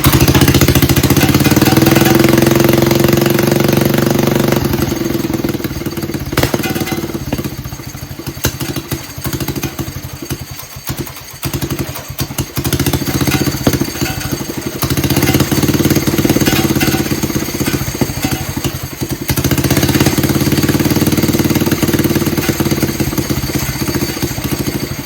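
Predator 212cc small engine fitted with an Amazon YOXUFA carburetor kit running loud and close, a continuous rough chugging drone that dips and stumbles in the middle before settling back to a steady run.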